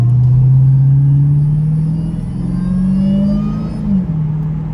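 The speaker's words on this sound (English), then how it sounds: "Just listen to that whine though" A Dodge Hellcat's engine revs hard and steadily, its supercharger whine rising in pitch over a deep rumble for several seconds before easing off near the end, with no talking.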